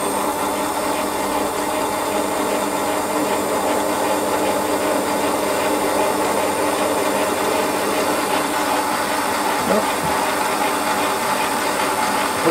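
A Warco lathe spinning steadily as a centre drill works into the end of a metal part, a continuous close mechanical whir with a faint ticking texture and a brief knock near the end.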